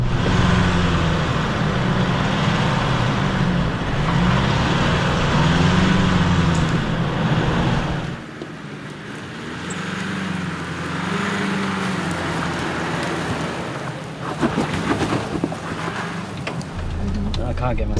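A car engine labouring as it climbs a steep, overgrown, rutted dry track near Lithgow, a steady low drone rising and falling with bumps, with people talking over it inside the vehicle.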